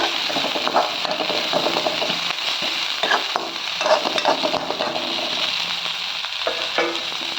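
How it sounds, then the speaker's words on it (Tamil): Onions sauté in a pan for Tamil Nadu-style karuppu kondakadalai sundal, giving a constant bright sizzle broken by repeated scraping stirs at an irregular rhythm, close and fairly loud. "ஆனியன் நல்லா வதங்கி வந்துருச்சு"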